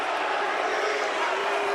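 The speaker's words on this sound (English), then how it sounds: "Crowd doesn't like it here at Belk Arena." Basketball crowd at Belk Arena during a VCU at Davidson game in 2022, reacting with displeasure to a foul call as a dense, sustained roar of voices.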